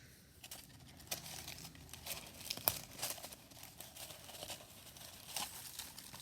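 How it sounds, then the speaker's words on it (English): Tape being pulled, torn and pressed to fix a rope inside a paper towel windsock, with quiet crinkling of paper and short ripping bursts at irregular intervals, faint and close, no talk. "I'm going to use tape for this."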